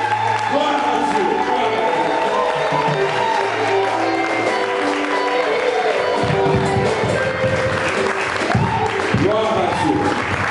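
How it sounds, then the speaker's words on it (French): A church congregation applauds and cries out in praise to God, loud clapping overlaid with raised shouting and singing voices that swell and churn throughout. "On donne une offrande d'acclamation à notre Dieu."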